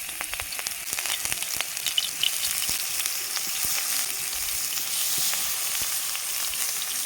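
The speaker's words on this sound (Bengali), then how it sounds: "এখানে তেল দিয়ে দেব এবার বেগুনের রিং বসিয়ে দেবো" Eggplant rings sizzle steadily in hot oil in a pan with turmeric, a dense, even crackle with small pops close by, continuous throughout and with no voices.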